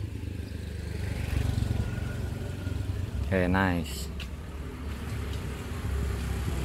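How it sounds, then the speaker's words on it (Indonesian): A motorcycle passes from behind on an outdoor road, a low, steady engine rumble heard at moderate distance, with a brief spoken word over it. "Kedengeran juga ya suara motor lewatnya gimana tadi dari belakang."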